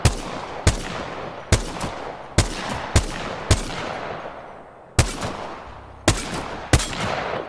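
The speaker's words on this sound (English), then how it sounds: "Sorry that all of these are loud. I mean, they are snipers, so what did you really expect?" G7 Scout sniper rifle fired in Apex Legends, eight loud sharp shots spaced about a second apart, each with a short decaying tail, alone without talk.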